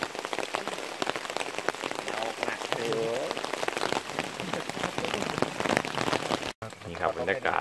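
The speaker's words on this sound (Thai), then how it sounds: "นี่ครับบรรยากาศภูเขาแสนงามตอนฝนตกครับผม" Steady rain falling at a mountain campsite, a dense patter of drops on surfaces that hisses continuously and closely throughout while a voice talks over it.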